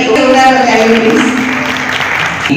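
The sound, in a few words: audience applause at an award ceremony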